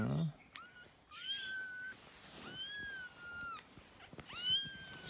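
Several short, high meows from a kitten, repeated at irregular intervals, close and clear over a quiet background.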